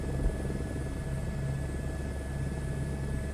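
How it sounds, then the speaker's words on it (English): A helicopter in the Assetto Corsa racing game produces a constant droning engine rumble with a rhythmic rotor thump, steady and moderately loud throughout. "welcome to the helicopter"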